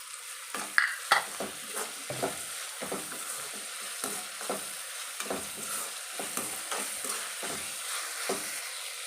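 Onions and sugar fry and are stirred in a pan, giving a steady close sizzle broken by repeated scraping strokes of a spoon, alone without talk.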